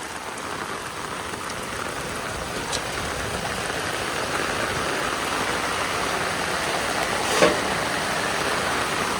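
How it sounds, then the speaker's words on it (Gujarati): Heavy rain pouring down steadily, a dense close hiss of drops striking surfaces with a faint engine idling underneath and an occasional sharper tap, no one speaking. "જોરદાર વરસાદ મિત્રો જોરદાર વરસાદ પડે છે"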